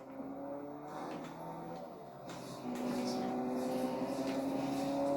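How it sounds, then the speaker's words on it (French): Car engine in the Fortnite video game, a steady motor drone with tonal whine that grows louder and nearer partway through, heard under game sounds and a player talking. "J'entends une voiture."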